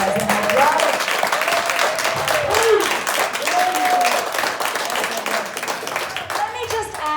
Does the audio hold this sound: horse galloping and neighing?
no